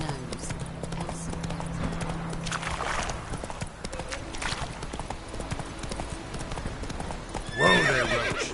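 Roach, a horse in a PS4 video game, gallops with rapid clip-clopping hooves that run steadily, then breaks into a loud whinny near the end, while someone talks over the game sound.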